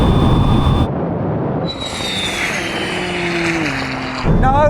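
A McLaren 765LT accelerates in a drag race against a Ferrari 296 GTB and a Porsche GT2 RS, its engine note climbing through rising tones with a gear-change drop and an upshift near the end, heard over wind and car noise.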